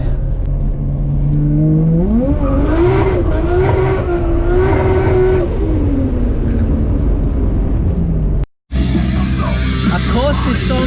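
A 550 hp Nissan R33 with a turbocharged RB25DET engine accelerates hard on a mountain touge road, its engine note climbing loudly through the revs with turbo whoosh, close and continuous, briefly cutting out before resuming at a steady roar.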